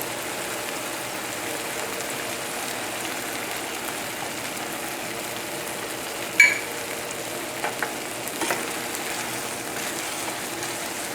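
Chicken thighs with peppers simmering in a pan as heavy cream goes in, a steady soft sizzle and bubbling throughout with a single sharp clink and a few light knocks of a utensil midway.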